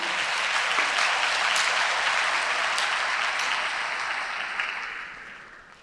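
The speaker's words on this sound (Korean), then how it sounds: "이사장님을 박수로 맞아주세요." At Ewha Womans University's 140th anniversary ceremony, the audience gives a loud, full round of applause to welcome the board chair, a thick sustained wash of many hands that fades out over the last second, with no talking.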